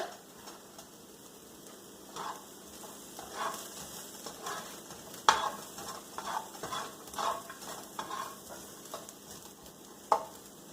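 Onions seasoned with salt and pepper cook in a pan, a quiet sizzle under repeated scraping strokes and clinks of a utensil stirring them, close and intermittent.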